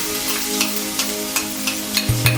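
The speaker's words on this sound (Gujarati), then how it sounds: "બધાને સાંતળીશું" Garlic, green chili and ginger paste sautéing in hot oil, a loud close sizzle with regular spoon scrapes and taps against the pan, with no talking.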